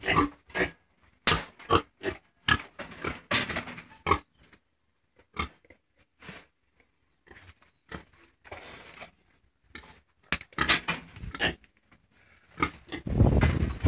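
A boar mates with a sow, with repeated short grunts and snorts in irregular bursts, close by, with rustling and a louder scuffle at the end.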